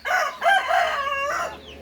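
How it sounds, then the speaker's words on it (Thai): A fighting cock crows once, loud and close, its long call rising and then drawn out before trailing off, with no talk over it. "ไก่ชนเยอะมากนี่"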